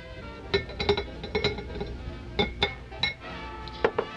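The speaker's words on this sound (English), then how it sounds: "place the apricots in the blender" Dried apricot quarters dropped into a glass blender jar make a scatter of sharp clinks and taps, some single and some in quick clusters, close and fairly quiet with no talking.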